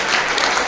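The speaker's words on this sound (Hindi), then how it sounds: "बड़ी पंक्तियों पर बड़ी ताली" An audience at a Hindi kavi sammelan poetry recital claps loudly and densely, a brief, steady burst of applause from a large crowd close by.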